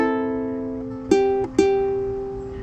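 A ukulele plays a short chord melody phrase from Hawaii Ponoi: a sustained ringing chord followed by two crisp plucked strums, close and clear.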